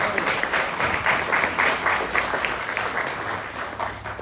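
An audience at a CRA annual meeting breaks into steady, sustained applause that fills the room, with many hands clapping at an even level and no pauses.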